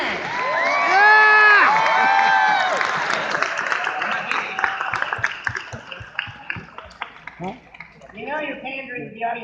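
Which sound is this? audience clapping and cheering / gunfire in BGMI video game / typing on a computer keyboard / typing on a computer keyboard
audience clapping and cheering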